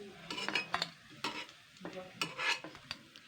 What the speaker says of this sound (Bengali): তেল ছেঁকে ছেঁকে তুলতে হবে এগুলো সব